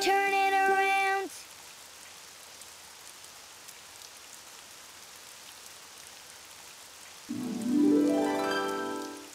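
Steady, soft rain falls outside as a cartoon sound effect, a faint even hiss running under tonal musical phrases at the start and end.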